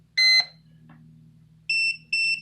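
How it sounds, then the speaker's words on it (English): A buzzer on an H122D X4 Storm FPV racing drone sounds in short, loud high-pitched electronic beeps: one early burst, then after a pause two more evenly spaced beeps, in a quiet room. "and then the buzzer will go off."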